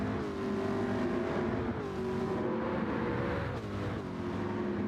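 A Ford GT race car engine from Gran Turismo 7 holds a strained, buzzing note at high revs, sliding slightly in pitch as it shifts and pulls steadily and close.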